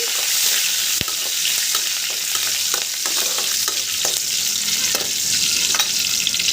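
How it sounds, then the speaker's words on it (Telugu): Curry leaves and tempering spices sizzle and fry in hot oil in a pan for a peanut, green chili and fresh coconut chutney, giving a steady, loud, close crackling hiss with small stirring clicks and no talk. "ఇప్పుడు మనకి ఈ తిరగమాత బాగా పర్ఫెక్ట్గా వేగిపోయిందండి"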